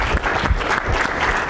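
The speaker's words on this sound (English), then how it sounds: "Round of applause." Audience applause following a talk, a loud, close, busy burst of clapping that stays at an even level for a moment and has no voices over it.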